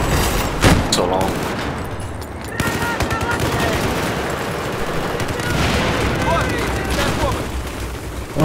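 Gunfire in the video game Battlefield 4 on the Operation Metro map, dense bursts of rapid automatic shots and booms in close-quarters combat, loud and continuous, mixed with faint voices.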